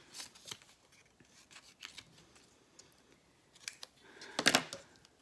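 Scissors cut out a paper label while diamond painting supplies are sorted, with soft rustling and scattered snips ending in a louder, close crunch of cutting.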